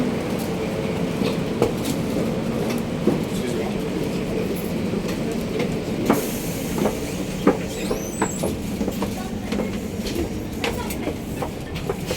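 Train running on rails from Brussels to Liege, heard from inside the carriage as a steady rumble with occasional clicks and clacks, while people speak over it.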